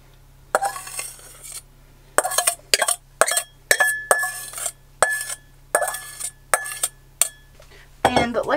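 Dishes and cutlery clinking and scraping as fried rice is plated, a series of short, close clattering bursts with brief pauses between them.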